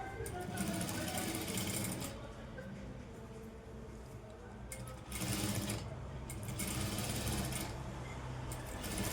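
A sewing machine stitches a cross cut blouse, running back over the same seam in loud bursts that rattle and hum, with brief pauses between runs.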